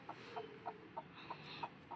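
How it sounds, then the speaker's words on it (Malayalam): A hen clucks softly in short, evenly spaced notes, a quiet rhythmic series heard at some distance over faint background noise. "കോഴി,"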